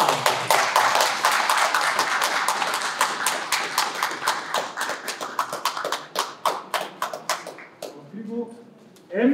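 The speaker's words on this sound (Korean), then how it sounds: "박수 부탁드립니다." Audience applause at an art exchange exhibition opening ceremony: dense clapping from many hands thins into scattered individual claps over about nine seconds, with a voice starting up at the end.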